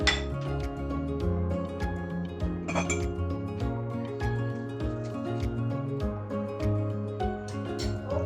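A spoon clinks repeatedly against a bowl while stirring crushed pepper and salt into canned tuna, giving bright metallic taps at an uneven, steady stirring pace, close and clear.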